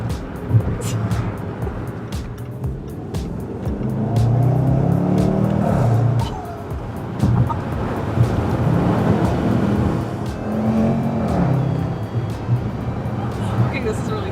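A 2021 Range Rover Sport SVR engine in sport mode rumbles and revs up and down in a deep, loud growl. People talk over it.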